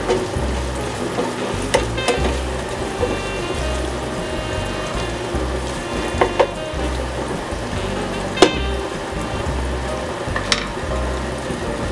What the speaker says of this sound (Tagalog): Habang niluluto natin ang bacon.